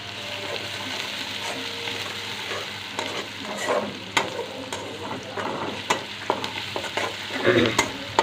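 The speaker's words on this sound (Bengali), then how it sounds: "এবার আমি এই তেলের মধ্যেই পেঁয়াজ কুচি দিয়ে দেব" Chopped onion fries in hot oil for a potato and tengra fish curry, a continuous sizzle broken by clinks and scrapes of a spatula stirring in the pan, louder toward the end.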